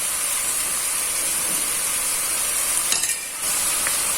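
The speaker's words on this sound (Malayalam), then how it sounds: "എണ്ണയൊക്കെ തെളിഞ്ഞു തുടങ്ങി, തക്കാളി പതുക്കെ മൂത്ത് തുടങ്ങി." Tomatoes and curry leaves fry in oil for a Kerala-style chicken roast, a constant bright sizzle and hiss that runs the whole time with a brief dip near the end.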